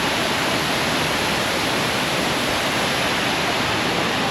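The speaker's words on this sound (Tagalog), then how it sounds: "Ganda ng waterfall." Waterfall at the Villa Escudero resort: a dense, constant rushing roar of falling water, loud and close, unchanging across the whole stretch with no other sounds.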